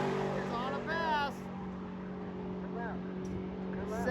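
A drag racing car makes a pass down the strip at a drag week event, its engine note rising and sweeping past while a voice commentates over a steady background hum.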